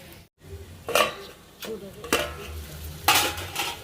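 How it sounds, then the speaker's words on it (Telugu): Prawns stirred and frying in a pan over low heat, with soft sizzling and intermittent scraping and clinking of a utensil against the pan in short bursts, close up. "ఇలా కలుపుకుంటూ కూడా మంచిగా లో మీద పెట్టుకుని ఫ్రై చేసుకుంటే రొయ్య నీటుగా మంచిగా ఉడికిద్ది."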